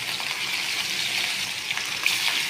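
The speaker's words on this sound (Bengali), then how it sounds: "এখন দেখেন হলুদ দিলাম কালারটা হয়ে গেলো এই যে ভাজতে দিয়ে দিলাম" Rohu fish pieces coated with turmeric frying in a hot pan, giving a close, steady, dense sizzle with small crackles throughout and no talking.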